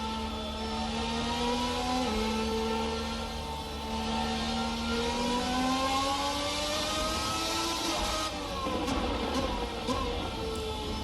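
Formula 1990 V12 race car engine in the Assetto Corsa sim, a loud, close, high-pitched wail that climbs through the revs with upshifts, dips briefly, then rises again toward the limiter.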